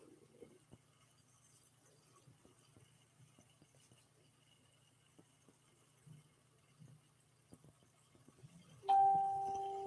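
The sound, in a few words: phone notification bing sound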